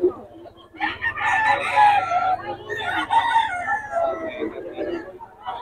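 Roosters crow loudly and repeatedly up close while chickens cluck around them, with a low steady hum underneath and the crowing filling most of the stretch.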